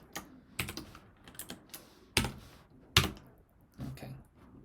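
Someone types a name on a computer keyboard: a few irregular clusters of sharp key clicks, close and fairly quiet, with short pauses between bursts.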